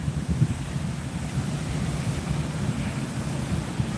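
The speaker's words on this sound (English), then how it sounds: "It's very windy here" Strong wind buffets an exposed shoreline on an island's east side, a constant low roar with gusty thumps on the microphone and a faint wash of surf behind it.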